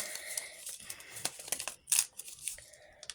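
A paper surprise packet is torn open by hand, with several short rips and crinkles sounding close and alone.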